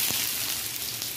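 Finely chopped onions sizzle in hot oil already crackling with cumin seeds, a steady close hiss of frying.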